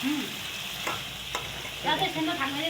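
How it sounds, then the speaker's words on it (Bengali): Meat sautéing with meat masala in a pan gives a steady close sizzle, with a few soft scrapes and knocks of stirring. "এরকম মিট মশলা দিয়ে এবার কষাচ্ছি"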